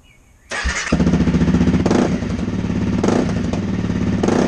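Motorcycle fitted with an FMF Q4 exhaust and quiet insert starts up inside a garage, then idles loud and close with a steady pulsing throb and a few revs, heard alone.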